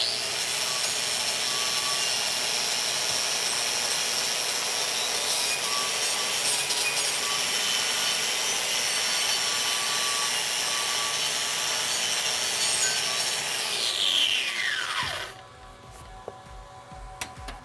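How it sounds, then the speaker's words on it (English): A wire wheel scrubs slag off a 3G vertical flux core weld made on ceramic backing over half-inch steel plate, a steady loud abrasive whir running continuously for about fifteen seconds before spinning down and stopping. "Gonna chip the slag off here, give it a once over with the wire wheel"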